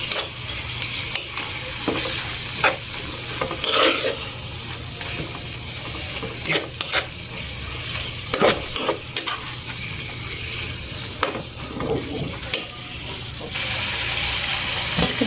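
Chicken pastil mixture stirred in a frying pan over a constant sizzle, with repeated scraping strokes of the spoon against the pan and no talking.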